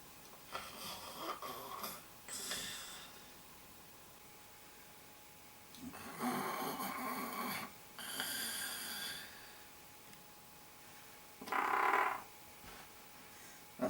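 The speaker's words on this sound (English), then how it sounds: "That's me snoring out my bottom." A person snoring in a comic bit, several separate snore-like bursts with quiet gaps between them, the last one short and loud, no talk over them.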